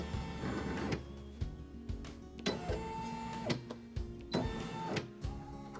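An embroidery machine sewing a tack-down stitch for a unicorn shirt design, with steady mechanical whirring broken by repeated pauses and clunking restarts, alone and close.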